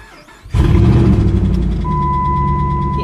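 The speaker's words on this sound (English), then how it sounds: "The engine does sound good." A 2006 Dodge Ram 1500 engine cranks and catches after a half second of quiet, then settles into a loud, steady idle close by, with a thin tone sounding over it later.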